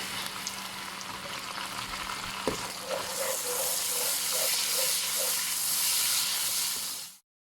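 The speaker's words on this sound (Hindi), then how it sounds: "पेस्ट को अच्छी तरह भून लें ताकि खाने में लहसुन की स्मेल ख़त्म हो जाए" Ginger, garlic and green chili paste frying in a pan with browned onion for a Punjabi-style mixed dal, a low hum giving way to a louder, steady close sizzle that cuts off abruptly at the end.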